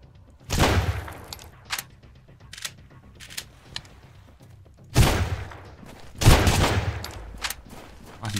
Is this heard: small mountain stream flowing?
no